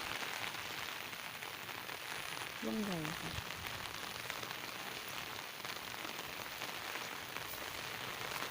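Steady rain pattering on a surface throughout in Ubon, Thailand, a dense even hiss, with a brief faint voice speaking partway through.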